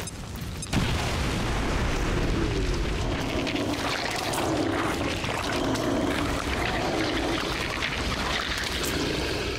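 Grenade explosion in the video game XCOM 2, a sudden loud boom followed by a long roaring, rumbling wash of debris and noise that holds steady for several seconds.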